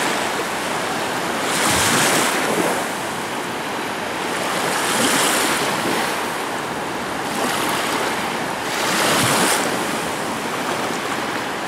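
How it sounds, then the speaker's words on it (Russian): Small sea waves wash onto the Gulf of Riga shore on a beach near Riga, a steady rushing surf with three slow swells rising and falling, mixed with wind noise and no voices. "На море небольшие волны."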